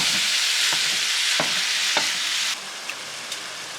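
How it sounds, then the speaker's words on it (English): Two pounds of lean ground beef browning in a large skillet over medium-high heat give a dense, steady sizzle, punctuated by a few soft scrapes of stirring. "we are just going to brown up 2 pounds of lean ground beef"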